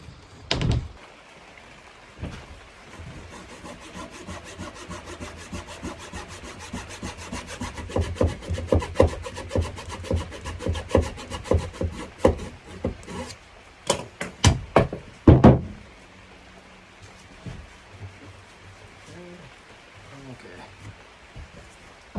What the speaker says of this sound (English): Used the belt sander to get, you know, a decent finish